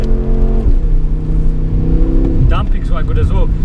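BMW F10 M5 Competition engine revving under acceleration while driving, a steady loud drone that climbs and shifts pitch, heard close throughout with some cabin noise.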